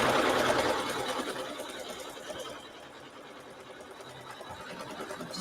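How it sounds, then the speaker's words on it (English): An embroidery sewing machine stitches a tack-down line through fabric held in a hoop, a fast even mechanical chatter of needle strokes running steadily up close with no talk. "it's going to go ahead and sew tack down this fabric"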